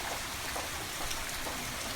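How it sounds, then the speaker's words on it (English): Light drizzle falls steadily at a forest lodge surrounded by trees and rustic wooden cabins. It makes a soft, even, faint patter and hiss with no speech. "It is still drizzling, making the place feel colder"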